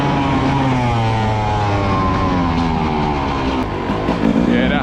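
A GasGas 300 dirt bike engine runs steadily close by, its tone rising and falling with the throttle and ending in a brief rev near the end.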